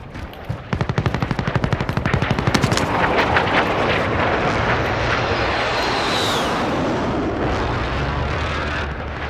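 Rapid automatic gunfire in Call of Duty: Warzone trios play, a fast burst of shots in the first few seconds over a steady roar like aircraft engine noise that carries on after the firing stops.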